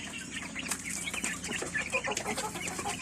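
Pradu Hang Dam chickens clucking and scratching about, with faint wing flaps amid background farmyard noise.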